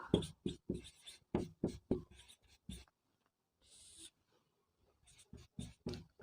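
Chalk or pen writing by hand on a board during a Class 10 coordinate geometry maths lesson: a run of sharp, quick strokes, a pause with a brief scratchy stretch, then another burst of rapid taps and scrapes, close and fairly quiet.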